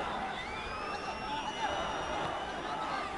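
A steady roar of a football stadium crowd chanting and cheering during the 2015 Egyptian league match between Zamalek and Al Ahly fills the background, a dense continuous wash of distant voices.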